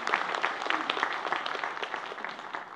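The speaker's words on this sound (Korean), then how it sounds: "박수로 환영하겠습니다" A church congregation claps warmly to welcome a newcomer seated in a wheelchair at the back, the applause brisk and continuous for a few seconds.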